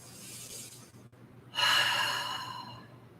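A long, audible exhale during a beginner yoga flow: faint breathy air at first, a brief pause, then a louder, airy release of breath that slowly tapers off.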